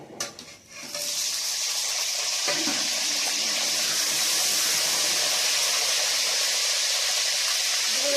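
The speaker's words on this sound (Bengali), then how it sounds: "এবার ডিমটা ভেজে নেব হালকা করে।" An egg fries lightly in a pan as biryani is being made, giving a steady, loud sizzling hiss that starts after a brief quiet moment and carries on evenly to the end, with no voices.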